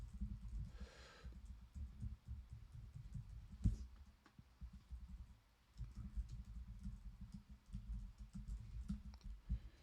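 Someone types a name on a computer keyboard, producing faint, quick clusters of soft key clicks with brief pauses between bursts, close and quiet.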